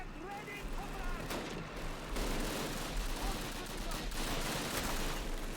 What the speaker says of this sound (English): Ready are the anti-tank rifles!